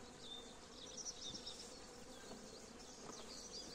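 Honeybees buzz in a spring hive while a frame is moved, a steady close drone with occasional brighter passes of individual bees, low and continuous, with no talk.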